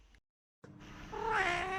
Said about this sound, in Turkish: Eve dişi kedi mi çağırdınız?